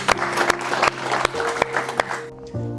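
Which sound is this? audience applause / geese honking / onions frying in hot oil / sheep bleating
audience applause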